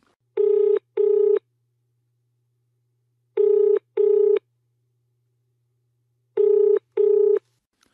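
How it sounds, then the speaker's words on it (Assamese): A telephone rings in three evenly spaced double bursts, each pair of electronic trills loud and clear against near silence. "ফোন বাজি উঠিল।"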